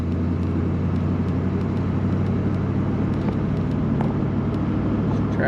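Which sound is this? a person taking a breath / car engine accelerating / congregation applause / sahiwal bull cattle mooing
car engine accelerating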